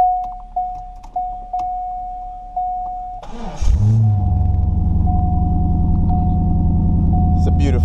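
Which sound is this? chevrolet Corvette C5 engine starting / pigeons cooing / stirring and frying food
chevrolet Corvette C5 engine starting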